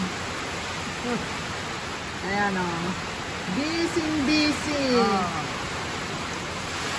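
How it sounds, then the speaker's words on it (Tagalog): Heavy rain pouring steadily during a storm at night, a dense broadband hiss running throughout, with a voice talking briefly over it. "Oh, lakas na ng ulan, guys."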